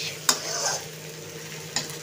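Marinated chicken frying in a pan for chicken kosha fried rice, a continuous hiss of oil with two sharp utensil scrapes as it is stirred, close and fairly quiet.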